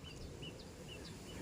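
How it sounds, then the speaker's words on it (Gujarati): A small bird, greenish underneath, chirps near a farm well in an orchard, brief high calls repeating every few tenths of a second, faint against a steady low outdoor rumble. "મસ્ત ચકલી બોલે છે"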